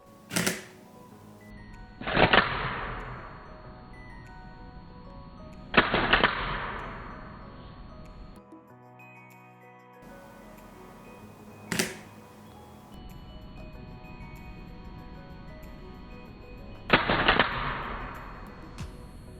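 A camera's shutter curtain fires in several sharp mechanical clacks spaced a few seconds apart, some single and some with a brief double snap, each loud and close with a short decaying tail and quiet between them.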